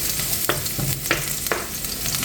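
Garlic, onion and shelled limpets fry in a pan with a constant bright sizzle, broken by a few sharp scrapes and clinks of a utensil, heard up close with no talking.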